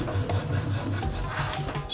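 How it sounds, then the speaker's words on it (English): Hand filing of seasoned wood for a tanpura, a steady rasping rub with repeated strokes running continuously and fairly close for about two seconds, with no talk. "They take their time crafting the wood, sawing, carving, and filing it down."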